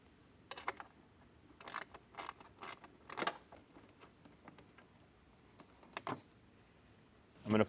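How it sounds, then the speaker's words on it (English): A ratcheting wrench working on a 7mm bolt inside a 2024 Jeep Wrangler during a speaker install, with quiet clicking bursts, a few clustered mechanical ticks and a louder handling clatter at the end, close and faint. "This is where I would recommend your wrench, possibly the ratcheting side."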